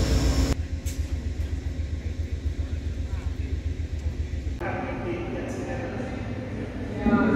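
Amtrak Coast Starlight diesel-electric train rumbling with a steady low drone, a loud throbbing engine and rail noise that shifts to a rougher clatter partway through, with some voices faintly under it.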